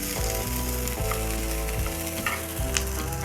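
Onions fry in a pan for a black-masala egg curry, giving a dense, steady sizzle that stays loud and close throughout. A tonal backing runs softly underneath it.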